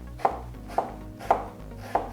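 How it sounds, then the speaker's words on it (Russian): Four sharp knife chops on a cutting board through onion, evenly spaced and close, with no talking. "И сюда дорежем немного лука."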